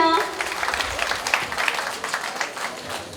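An audience at a club festival in a Yeongdeungpo dance hall in Seoul claps for an arriving guest, scattered crowd applause with voices speaking over it at the start and throughout.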